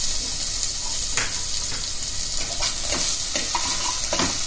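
Ginger-garlic paste, onion and green chili sizzle in hot oil for banana-flower biryani, a continuous bright crackle broken by repeated scraping strokes of a stirring spoon.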